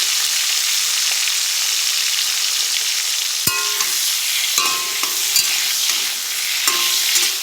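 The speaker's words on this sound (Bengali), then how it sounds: "তো বেগুনগুলো আগে ভেজে নিই।" Long-cut eggplant slices fry in hot oil in a pan, giving a loud, constant sizzle, with a few metallic clinks and scrapes from stirring partway through.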